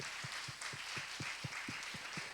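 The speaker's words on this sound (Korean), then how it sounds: "우리 하나님께 감사의 박수, 예수님께 영광의 박수 올려드리기를 원합니다" A church congregation applauding at an Easter Sunday service, a dense wash of clapping with a steady rhythmic beat running through it, sustained and fairly even for a couple of seconds, no speech over it.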